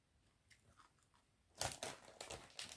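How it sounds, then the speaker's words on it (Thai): Crisp pork rind crackling crunched between the teeth, heard close and fairly quiet: a few soft chews, then a run of loud, brittle crunches in quick succession with no talking. "เสียงหนังแคบหมูเป็นมาผ้าผ้าว่ะกรอบคักเนาะ"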